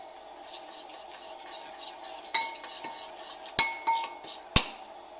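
Metal spoon scraping and stirring a thick curry spice paste in a pan, a steady rhythmic scrape-and-swish repeated about twice a second, with three sharp clanks against the pan's rim, close and fairly quiet with no talking.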